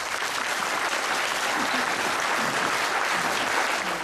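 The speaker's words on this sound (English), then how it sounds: "we'd like to give them a round of applause" Audience applauding the founders of the E.O. Wilson Biophilia Center, a dense, steady round of clapping from a sizeable crowd, loud and unbroken with no talk over it.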